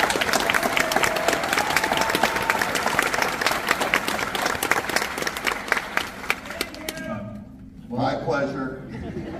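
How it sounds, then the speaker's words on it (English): An audience at a D23 event screening of Tron gives a loud, sustained round of applause that fades out near the end, leaving a murmur of voices. "one last round of applause, please."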